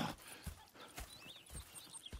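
Horses in the game Red Dead Redemption 2 shift and step in a camp, with soft irregular hoof clops and a faint whinny, quiet and close.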